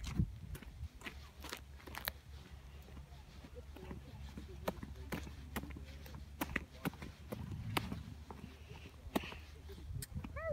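Horses' hooves clop irregularly nearby on a farm with scattered thuds and soft snorts, while voices murmur faintly in the background.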